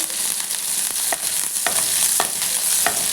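Chopped green chillies fry in hot oil in a kadai with a continuous loud sizzle, broken by several sharp spatters and the scrape of stirring.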